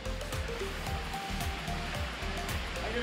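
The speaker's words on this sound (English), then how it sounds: "now we're here at the Wang Sao Thong waterfall" Wang Sao Thong waterfall roars steadily, a dense, continuous rush of falling water heard close up and loud, with no talking over it.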